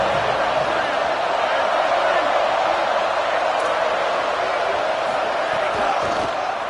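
Football stadium crowd at a Cal versus BYU game, a steady broad roar of cheering and noise that stays loud and dense throughout without letting up.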